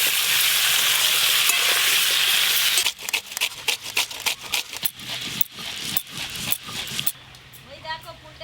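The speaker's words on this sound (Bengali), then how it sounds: "সবজি রান্নার জন্য কাঁচা টমেটো আর আলু একসঙ্গেই ভেজে নেব।" Raw tomato and potato frying together in a pan, a steady loud sizzle for about three seconds that drops into intermittent scraping and stirring clatter, with quieter hissing between strokes.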